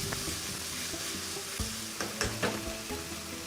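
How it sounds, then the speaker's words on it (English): Sambal chilli paste with prawns fries in oil over a low-medium flame, a steady dense sizzle with a few spatula scrapes and stirring knocks, close and continuous. "We let this cook until the raw smell of the paste is gone and the sambal, which is the chilli paste, is cooked."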